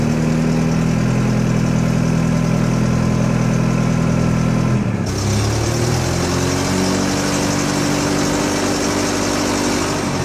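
Forklift engine runs steadily and loudly while the lift arm is raised, with a constant low rumble that shifts in pitch partway through as the throttle and hydraulics change load.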